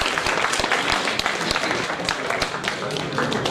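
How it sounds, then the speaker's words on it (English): Audience clapping at a development dialogue event, a steady dense round of applause with sharp individual claps standing out, fairly close and continuous throughout. "Can you give him a clap?"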